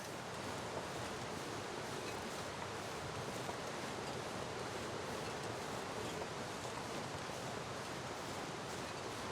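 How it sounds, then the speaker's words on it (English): Waterfalls roar in the snowy wilderness of the survival video game The Long Dark, a steady, dense wash of noise that holds at an even level throughout with no voices. "All these waterfalls. It's very noisy."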